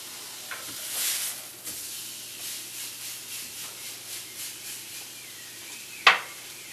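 Steak sears in a hot pan, a faint steady hiss with soft pulsing sizzles and a sharp clink near the end.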